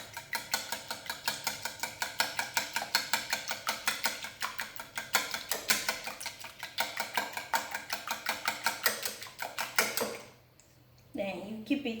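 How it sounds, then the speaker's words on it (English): Eggs whisked for Nigerian milky chin chin make a fast, even clatter of a whisk against a bowl, a steady rapid rhythm close up, which stops before a short pause and some faint handling noise. "So we are going to whisk the egg. You whisk it very well."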